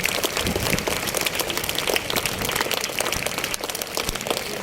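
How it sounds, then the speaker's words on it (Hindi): Parents and students at a school prize distribution ceremony give a long burst of loud applause, dense, continuous clapping from a large crowd with no break and no talk. "एक बार जोरदार ताली बजा देंगे आप सब"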